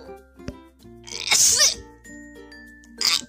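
A single loud sneeze bursts out near the middle, followed moments later by a second shorter sneeze-like burst, set against quiet Roblox Bee Swarm Simulator game music tones.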